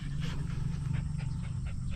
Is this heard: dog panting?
yes